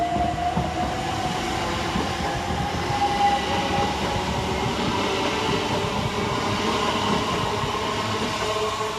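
An electric multiple unit train departs Hassocks railway station, rolling steadily with a continuous loud rumble and whine, wheels humming on the rails throughout, with no voices.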